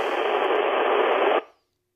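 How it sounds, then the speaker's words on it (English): An FM radio signal picked up on a homemade fractal antenna made of metal tape gives a loud, steady hiss of static that cuts off abruptly, leaving silence. "So let's see if we can hear any FM while we're here."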